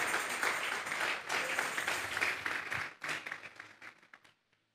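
A congregation at a Spanish-language church service claps in a sustained burst that gradually thins out and fades to silence.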